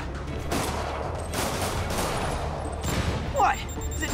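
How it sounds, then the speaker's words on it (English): Rockets fired in a video game burst out in a heavy, continuous barrage of booming blasts, loud and dense with little letup. "More rockets? A little excessive, don't you think?"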